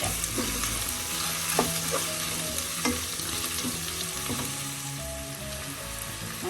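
Chopped shallots sizzle in an oiled pan while cooking quail egg curry, a constant bright frying hiss with occasional spoon scrapes and stirring taps, close and steady.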